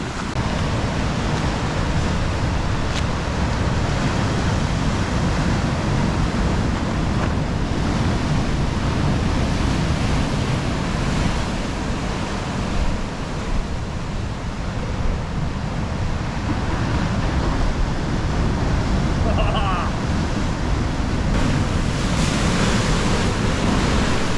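Loud, continuous crashing ocean surf close by at Kalbarri, Western Australia, a steady roar of large breaking waves with wind buffeting the microphone throughout.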